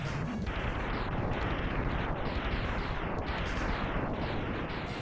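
A ship blows up in the Mega Man X video game, producing a loud, continuous barrage of crashing explosions and rumbling blasts that never lets up.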